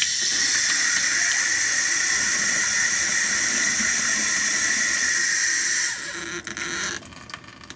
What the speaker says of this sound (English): when we turn on any of the faucets